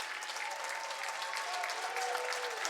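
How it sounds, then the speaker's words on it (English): Fans clap at a 2006 girls' basketball game between Norristown and Methacton, a steady, moderately loud wash of applause from a gym crowd that lasts the whole clip, with faint tonal hum beneath. "they applaud their team's effort today"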